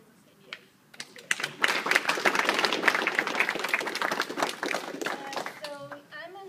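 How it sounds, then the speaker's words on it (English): A room full of people at a startup talk claps in a burst of applause that swells quickly, holds for several seconds, then tapers off as a voice returns. "I want to hear a round of applause to us for chasing our dreams"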